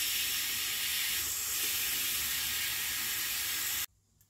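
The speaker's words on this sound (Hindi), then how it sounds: "थोड़ी सी इसकी स्टीम है तो इसे हम निकाल देंगे।" A pressure cooker of chana urad dal vents its remaining steam in a loud, steady hiss held for nearly four seconds, then cut off abruptly into quiet.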